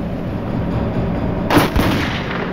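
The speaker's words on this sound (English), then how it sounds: "He looked up from his checkbook and watched as 2 masked robbers shot the guard in the back." Gunfire rings out in a crime reenactment of masked robbers shooting a guard, a couple of sharp, loud shots close together over a steady background rumble, with no talk.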